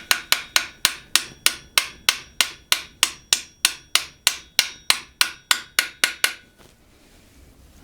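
Quick, regular taps of a small hammer on a small metal socket ring out close by, around twenty bright strikes before falling quiet at the end, during crankshaft reassembly on a Peugeot 205 GTI engine.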